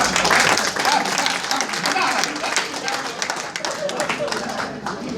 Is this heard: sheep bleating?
no